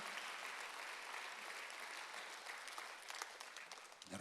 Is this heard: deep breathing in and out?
no